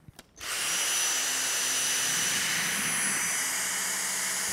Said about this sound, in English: the combination of the V6 motor, the two-tier cyclones and the carbon fibre bristles means we can achieve really effective fine dust pickup on hard floors